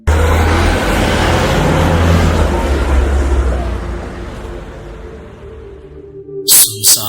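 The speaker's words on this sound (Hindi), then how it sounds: "सुनसान और अंधेरी रातों में गाड़ी बहुत तेज रफ्तार से जंगल की तरफ बढ़ रही थी।" A car's engine roars along a road as a horror-story sound effect of a vehicle speeding toward a forest at night, loud and steady before fading away, followed by a couple of sharp bursts near the end.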